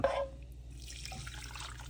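A brief splash as water pours off pho noodles being strained, followed by a soft steady trickle and drain.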